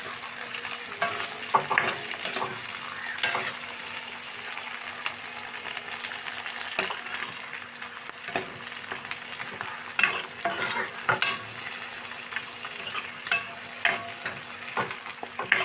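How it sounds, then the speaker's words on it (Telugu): Onions frying and sizzling in a pan with steady hiss and repeated scraping of a stirring utensil, close and continuous, no talk. "ఎరగడ్డలు అయితే కాగిపోయినాయి కదా ఫ్రెండ్స్"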